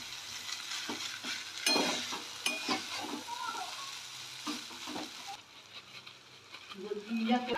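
Egg chowmein is stir-fried with chowmein masala in a pan, producing a close sizzle broken by repeated scraping and tossing strokes of the spatula.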